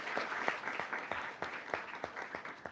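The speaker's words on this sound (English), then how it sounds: "Let's give them a round of applause because a lot of work went into this." A small audience at a university lecture event applauds, a light patter of separate claps with audible individual strikes, steady and moderately quiet, with no one speaking.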